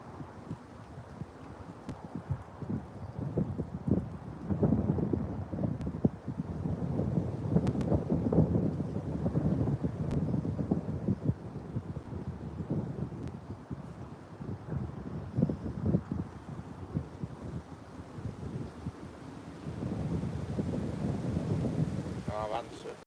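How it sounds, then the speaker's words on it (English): Wind blowing outdoors beside a rail line, a steady low rumble and buffeting against the microphone that carries on throughout with no pauses. "Still windy as well."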